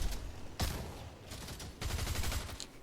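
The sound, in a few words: gunshots in the video game Fortnite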